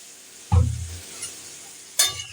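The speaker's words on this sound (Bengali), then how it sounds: "এবার আমি জল দিয়ে দিলাম।" Water is poured into hot papaya curry in a pressure cooker, giving two sharp bursts of loud hissing sizzle that fade quickly, with no talk.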